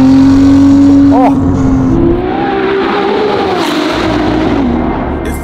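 Novitec-tuned Ferrari 296 GTB, an 868 hp supercar, revs its exhaust loudly and close up, the engine note rising and holding with a brief blip partway through, while music plays underneath.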